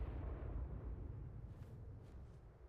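Continuous deep rumbling booms roll on without pause, like distant explosions in ARK: Survival Evolved (Primal Fear mod, Lost Island map), with no talking.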